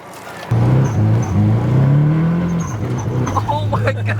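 Nissan S14 240SX drift car with an SR engine, revving loudly up close with a steady droning engine note that rises and falls, while people talk over it.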